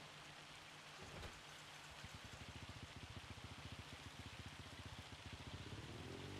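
Heavy rain pours steadily in Farming Simulator 25, a dense continuous hiss with a rapid pattering of drops on a surface, loud and close, with no voices.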